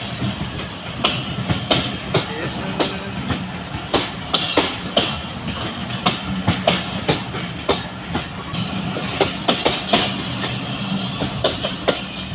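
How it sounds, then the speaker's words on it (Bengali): A train departing Pakshi railway station in Bangladesh rolls past with a steady rhythmic clickety-clack of wheels over rail joints and a constant rumble, close by and loud throughout. "ট্রেন চলে গেল আমাদের থেকে।"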